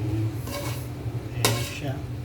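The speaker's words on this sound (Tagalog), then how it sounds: "tingnan natin yung ating niluluto, kung okay na ba siya. Oh. So, haluin natin" A vegetable dish resembling bihon noodles is stirred in a cooking pan, with clinks and scrapes of a utensil against the metal and faint sizzling, including one sharper clatter midway, close and moderately loud.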